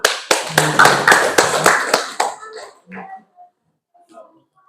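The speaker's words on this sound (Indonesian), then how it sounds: "Tepuk tangan dulu." Classroom applause at a vocational school as a presenting student group is called forward: a short burst of brisk clapping from a modest group that stops abruptly after about two seconds, followed by scattered small noises and faint murmuring.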